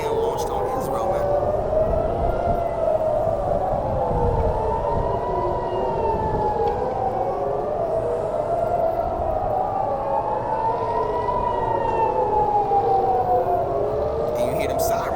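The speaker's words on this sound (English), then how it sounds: "And you hear them sirens go off" Air-raid sirens wail during an Iranian missile attack on Israel, a loud, steady rising and falling tone that keeps cycling with slow sweeps, with a voice talking over it.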